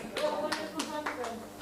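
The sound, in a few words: audience applause for conference team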